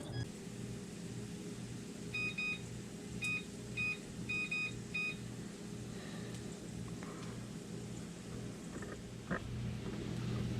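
Kitchen timer beeping in a quiet kitchen, a string of short high electronic bleeps in quick groups, faint against a low steady hum.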